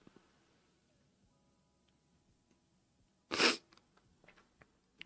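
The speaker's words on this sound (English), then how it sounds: "I'm going to sneeze, guys." A single loud sneeze bursts out after a quiet stretch, followed by a few faint rustles and clicks.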